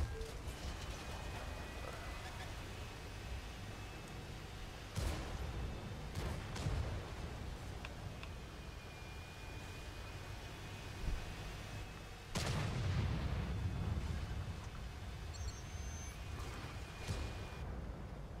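Tank cannon firing in the World of Tanks video game, sharp booming shots at about five and twelve seconds over a constant rumbling engine drone.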